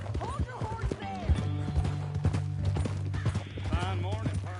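Horse hooves in Red Dead Redemption 2, a clip-clopping hoof rhythm heard close under steady conversation between characters, with a brief whinny amid the dialogue.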